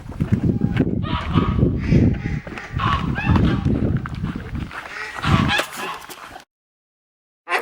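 Ducks and ducklings quacking and honking at close range, with busy overlapping calls that break off near the end before a brief final sound.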